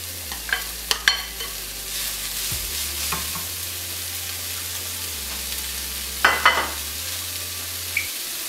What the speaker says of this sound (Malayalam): ഇട്ടതിന് ശേഷം ഒന്ന് വഴറ്റണം.